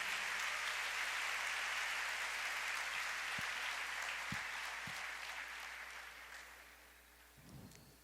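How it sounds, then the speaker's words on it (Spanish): A church congregation claps loudly at a sermon, in dense sustained applause that slowly fades over several seconds, with a few low thumps and a faint voice near the end. "Den un aplauso bien fuerte."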